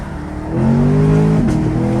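Camaro SS launching hard from a standstill in its lowest gear: a short idle rumble, then the engine bursts into a loud, rising roar that builds and holds strongly.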